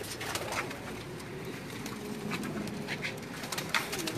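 Pigeons coo softly and steadily on a rooftop loft in Jeddah, a low continuous murmur of calls with faint outdoor background noise throughout.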